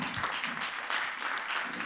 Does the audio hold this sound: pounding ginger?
no